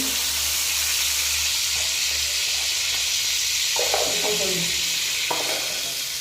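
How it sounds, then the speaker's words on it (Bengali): Prawns fry in oil in a hot pan, giving a steady, close hiss and sizzle with a few brief stirring scrapes and clinks partway through. "চিংড়ি মাছগুলো ভালো করে ভেজে নেব"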